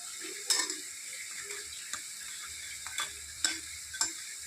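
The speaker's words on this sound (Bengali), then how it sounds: "তারপর সেম একইভাবে বাদ বাকিগুলো ভেজে নেব" Steady oil sizzle of lentil fritters frying, with a few sharp clinks and scrapes of a utensil against the pan; no voices.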